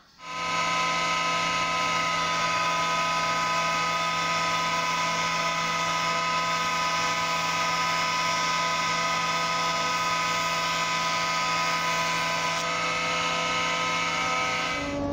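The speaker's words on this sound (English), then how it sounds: "so that's the side I'll be putting down onto the planer" A wood planer runs steadily for about fifteen seconds, a loud, continuous, high-pitched machine whine as boards for kitchen cabinet doors are fed through, with no talking.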